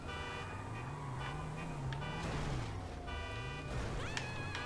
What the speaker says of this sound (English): Honk your horn like we're gonna pick him up.